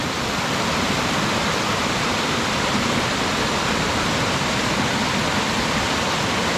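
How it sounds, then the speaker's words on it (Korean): A mountain valley stream on Yongmunsan flows in a steady, dense wash of rushing water noise, close and constant with no pauses. "시원한 또 물소리, 계곡 물소리에"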